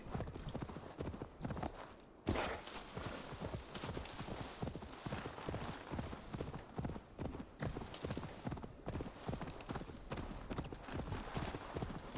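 A horse in Assassin's Creed Valhalla trots in a steady, continuous clip-clop of hooves, close and rhythmic, with a brief break early on and occasional background sounds.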